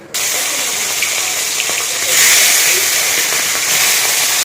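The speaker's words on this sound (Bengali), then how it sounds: "তেল গরম হয়ে গেছে, এবার মাছের মাথাগুলো দিয়ে দেবো" Fish heads drop into hot oil and fry with a loud, close, continuous sizzle and hiss that swells brighter midway through, with no talk.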